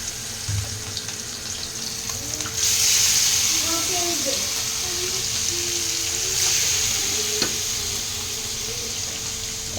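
Fish frying on a fully heated tawa, a steady hiss of hot oil close by that swells louder partway through, with faint kitchen clatter and no clear talk.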